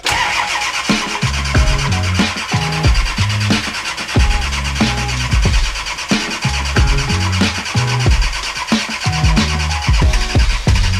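Diesel Nissan GQ Patrol engine cranking over repeatedly without glow plugs, struggling to start, loud and close with a steady rhythmic churn throughout.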